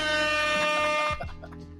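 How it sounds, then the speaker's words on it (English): A loud, blaring air horn blast holds steady for about a second, then cuts off into a brief decaying echo. "You get the air horn, man"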